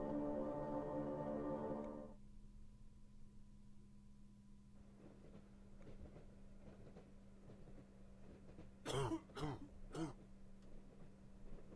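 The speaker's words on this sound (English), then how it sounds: "Cough, cough." A character in the horror adventure game The Last Door clears his throat and coughs in a short burst of three harsh hacks over a low ambient hum, following a faint droning tone at the start.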